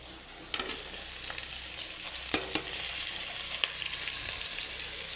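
Beef innards for papaitan sauté in a hot pan at home, a steady close sizzle with a few sharp clicks and scrapes of stirring, no voices.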